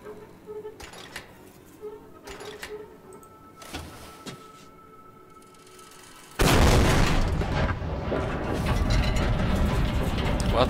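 Tank cannon in the video game Amnesia Rebirth fired at a stone wall: a few mechanical clunks and ratcheting turret sounds, then a sudden heavy boom followed by a long, loud, rumbling roar.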